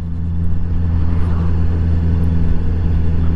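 A Honda CB650R motorcycle, a 2019 model, rolls slowly through traffic at about ten miles an hour, its engine giving a steady, smooth low hum and rumble throughout with no sharp revs.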